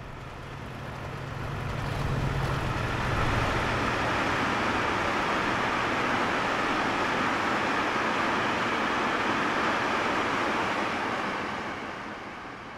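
A laden car transporter wagon rolls along the track in the Trainz railway simulator, giving a steady broadband rumble that swells in after about two seconds and holds evenly, close and continuous, with no voices.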